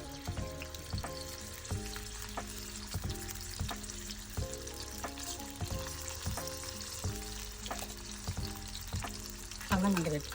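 Dry fish pieces frying in hot oil, a continuous loud sizzle with repeated crackling pops and utensil clatter throughout, alone without talk.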